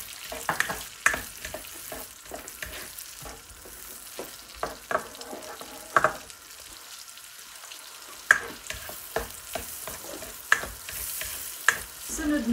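Onions frying in butter for beef kaldereta crackle with a steady close sizzle, broken by the scrape and clack of a spoon stirring in the pan.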